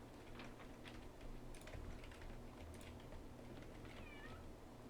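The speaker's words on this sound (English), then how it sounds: "What a cute cat." A cat meows a few times, faint, over soft keyboard typing and low background hum indoors.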